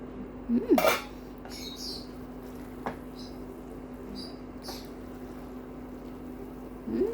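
Metal lid placed onto a pot of cooking Mexican rice, one clear ringing clank near the start, then faint small taps and a soft simmering hum, with another light metallic touch at the end.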